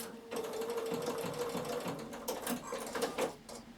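A Bernina sewing machine runs steadily and close by while stitching a dart, its motor hum and needle chatter continuous and moderately loud, with no talk over it.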